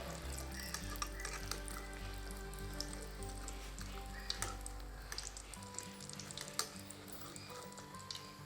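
Brinjal and egg bajji frying in hot oil, a steady dense sizzle with scattered pops and crackles running throughout, close and fairly loud, with a low hum underneath and no voices.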